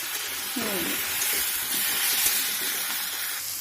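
Pieces of giant taro (mankochu) fry lightly in a generous amount of oil, producing a soft, constant sizzle with faint stirring scrapes and no talk over it.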